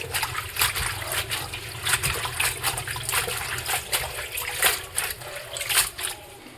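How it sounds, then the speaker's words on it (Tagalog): Mushroom shoots being washed by hand in water, with repeated splashes and sloshes in an uneven rhythm, close and moderately loud. "Hugasan natin siya ng maayos kasi madumi ito guys"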